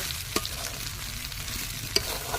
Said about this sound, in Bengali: এখন আমি চালগুলি দিয়ে দিচ্ছি।